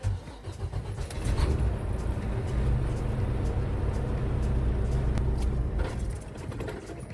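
A Volvo truck engine cranks and catches, then settles into a loud, steady low idle that runs close and unbroken to the end, with no talking.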